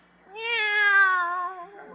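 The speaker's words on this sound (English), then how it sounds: "Take our cat Minerva." A cat named Minerva gives a single clear, drawn-out meow, close and loud, rising then falling in pitch over about a second and a half, with no talking over it.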